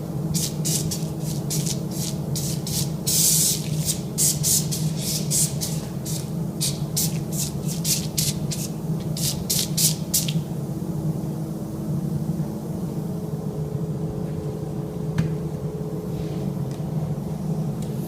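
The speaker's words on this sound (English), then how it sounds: "Now I'm going to shoot a fine spray over the top." An airbrush fitted with a fat splat nozzle spits paint in a rapid series of sharp, crackling bursts, then settles into a steady hissing spray over a continuous low compressor hum.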